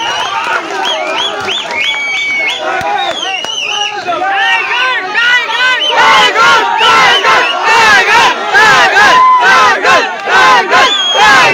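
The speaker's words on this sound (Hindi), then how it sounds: "जोरदार तालियों का साथ स्वागत करे" A crowd at an Independence Day gathering in Kandra, Dhanbad, welcomes a guest onto a stage. Loud shouting and cheering voices swell, then rhythmic bursts of clapping and cheering grow dense and loud in the second half.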